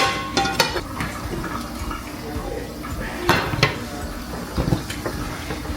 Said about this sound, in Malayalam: ഞാൻ ഈ ചട്ടിയിലോട്ട് ഫ്ലിപ്പ് ചെയ്യാൻ നിൽക്കുകയാണ്.